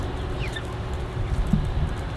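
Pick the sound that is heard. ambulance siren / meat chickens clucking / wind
meat chickens clucking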